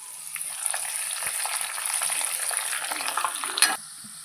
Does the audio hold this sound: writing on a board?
no